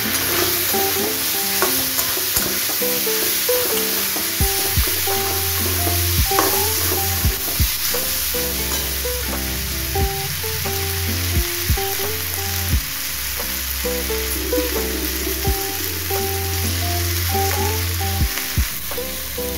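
Oil sizzles steadily as ginger and garlic fry, with occasional scraping and stirring clinks over the constant crackle.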